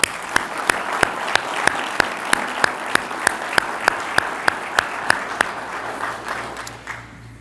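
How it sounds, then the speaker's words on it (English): An audience at an employee and officer of the month recognition gives sustained applause, a full crowd clapping close by, with a few sharp, regular claps standing out above the wash before it fades near the end. "Let's give them all a round of applause"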